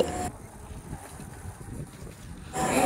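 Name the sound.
strong wind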